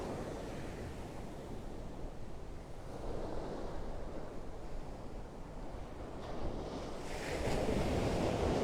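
Ocean waves of an incoming tide wash up a beach, a steady broad surf roar with wind noise across the microphone, swelling louder near the end with no voices.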